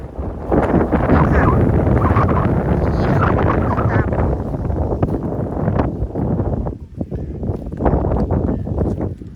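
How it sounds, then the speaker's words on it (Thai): Strong wind outdoors in a rice field, roaring and buffeting the microphone loudly and continuously for most of the time, easing briefly near the end. "ลมแรงมากนะคะ"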